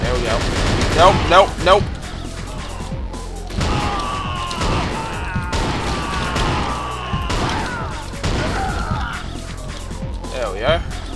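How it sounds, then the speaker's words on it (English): Rocket launcher blasts and explosions from NeoDoom on the Toxin Supplier map: loud booming impacts and crashes recur across the stretch with rumbling tails, while someone speaks briefly over the action. "Alright, rocket launcher out."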